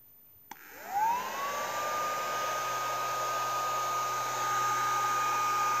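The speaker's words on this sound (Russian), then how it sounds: "Такой фен, знаете, сушилка для ногтей. Идет холодный, холодный, прохладный, приятный воздух." A click, then a small battery-powered nail dryer fan spins up with a rising whine and settles into a steady, close blowing hum.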